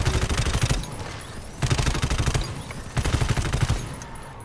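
Loud bursts of automatic gunfire in the video game GTFO as enemies are shot: three rapid volleys separated by brief pauses, with no voices.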